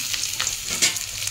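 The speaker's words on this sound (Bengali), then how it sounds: "ডিম দিয়ে দিয়েছি কড়ায়" Eggs sizzle in hot oil in a wok (kadai), a steady, close frying hiss with small crackling bursts and no voices.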